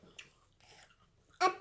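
A toddler chews food with soft, intermittent mouth sounds and faint breathing, followed by a louder vocal burst near the end.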